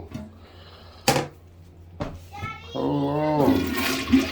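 A household toilet flushes during a bathroom remodel, its rushing swirl of water building up after a couple of sharp knocks, with people talking over it nearby.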